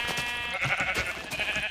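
A sheep bleating in Minecraft, a nasal, wavering cry that runs continuously and fairly loud across the whole stretch, over a faint background.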